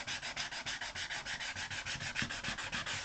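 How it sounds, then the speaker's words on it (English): Rapid rhythmic sanding scrubs back and forth across a barn wood painting surface, about six strokes a second, close and steady with no talk. "Alright, I'll be back when this thing is sanded."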